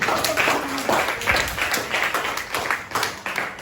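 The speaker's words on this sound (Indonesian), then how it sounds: "Kita kasih tepuk tangan lagi dong" Students clap in a classroom during a teaching session, a quick, uneven patter of many hands that carries on steadily without a break.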